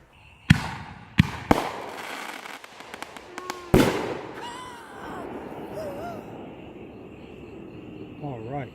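Fixin' To Fire fireworks launching outdoors: several sharp, loud bursts in quick succession, followed by a lingering roar and rising whistling tones as the shells climb into the air.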